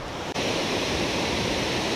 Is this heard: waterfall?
yes